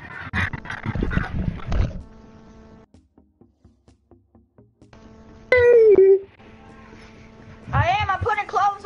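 A dog gives drawn-out, wavering whines and howls, one loud sustained cry followed later by a second rising and falling stretch. Talking and a soft ticking background come before it.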